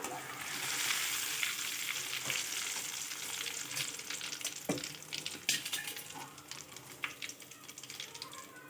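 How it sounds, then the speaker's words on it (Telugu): Flattened rice (atukulu) frying in hot oil in a bowl on a stove, a steady close crackling sizzle with occasional stirring clinks, heard alone without talk. "వేడైన తర్వాత అటుకులని మనం వేయించుకోవాలి ఇలా"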